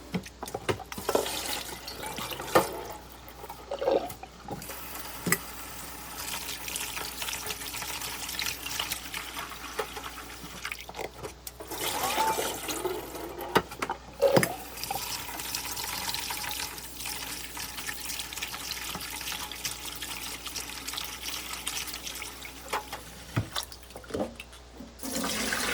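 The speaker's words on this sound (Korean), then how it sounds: "쫄면을 삶은 후에 우선 체에 받쳐서 쫄면 끓인 물은 부어버리고 찬물로 3-4번 헹궈주세요." Cooked jjolmyeon noodles get rinsed under cold running water in a sieve, a steady close splashing and trickling with occasional clatters, no talk.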